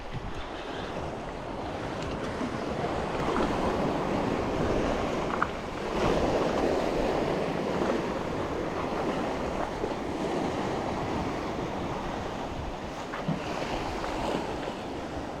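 Sea waves heard from a fishing boat off the west coast of Scotland, a steady broadband wash of surf and water with wind noise on the microphone, continuous and fairly loud throughout, with no talking.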